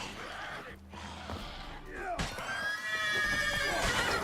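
A horse in The Witcher III lets out a loud, drawn-out neigh close by, its whinny rising and wavering over a low game background with faint hoof sounds.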